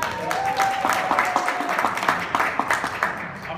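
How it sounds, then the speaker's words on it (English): Audience applause at a small business panel event, steady clapping from a crowd under a faint tone, fairly close and moderately loud throughout. "Give her a round of applause"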